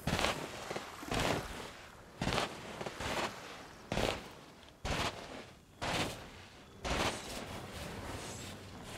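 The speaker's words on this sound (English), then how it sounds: "fired a cannon." Ship cannons in Sea of Thieves fire in a series of about eight sharp, loud booms spaced roughly a second apart, each with a short rumbling tail, with no talk over them.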